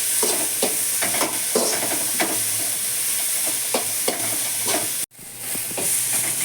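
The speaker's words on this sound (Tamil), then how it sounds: "லைட்டாக வதங்கினா போதும்" Onions sauté in a pan for a samosa filling, a loud continuous sizzle and frying hiss broken by repeated scraping stirs, with a brief cut before the sizzling resumes.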